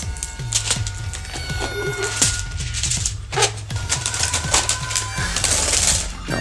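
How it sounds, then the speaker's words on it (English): Airsoft shotgun packaging being torn open by hand, plastic wrap and cardboard crackling and ripping in a rapid, busy series of sharp tearing bursts up close, with no talking. "I'll rip this open."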